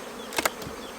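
Honeybees on a frame of comb buzz faintly as they are brushed off during hive work, with two quick brushing swishes close together amid the soft hum.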